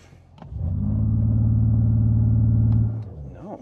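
A Mercedes-Benz E53 AMG pulls away from a stop, its engine rising into a loud, steady, sustained roar for about two seconds before easing off, with a brief voice and a few clicks near the end.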